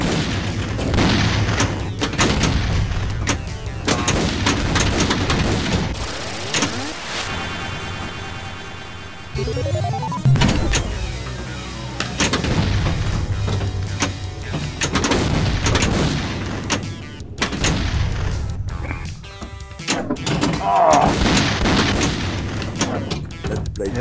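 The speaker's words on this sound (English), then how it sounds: "Here's another explosion for your movie," Explosions in the Data East Last Action Hero pinball table, played in a VR pinball simulator: repeated loud booms and crashing blasts over a dense, busy game soundtrack.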